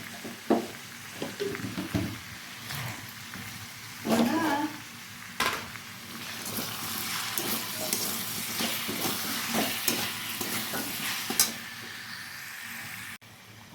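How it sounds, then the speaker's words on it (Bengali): Potatoes fry in a pan in a home kitchen with chopped chillies and salt, a steady close sizzle under repeated scraping and stirring strokes of a spatula, continuous throughout. "ভালো করে মিশিয়ে নেব এবং কিছুক্ষণ ভেজে নেব ভালো করে"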